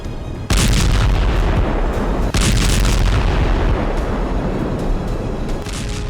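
An MK-84 unguided free-fall bomb explodes on target: a sudden, loud, close blast erupts after a brief quiet, then a second burst follows amid a long, dense roaring rumble that fades slowly.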